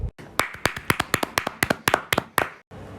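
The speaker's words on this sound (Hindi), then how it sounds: "पीयूष के लिए भी जोरदार ताली बजाएंगे" Students clap for prize winners at a school Republic Day event: about a dozen sharp, evenly spaced claps ring out close and loud, then stop abruptly.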